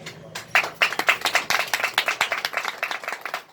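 A small audience claps at an event, the individual hand claps distinct and fairly quick, fairly light and close, lasting a few seconds with no talking.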